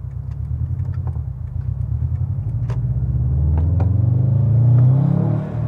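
A 2011 Subaru STI with a Sprint Booster on setting 9, its engine rumbling at low revs and then rising steadily in pitch as it accelerates, loud and close from the cabin.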